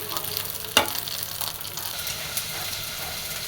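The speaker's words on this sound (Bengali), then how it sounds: "তেল দিয়ে ভাজতেছি এটা তেল দিয়ে ভালো করে ভাজবো" Food frying in oil in a home kitchen, a steady soft sizzle throughout with one sharp clatter of a stirring spoon near the start, close and fairly quiet, no voices.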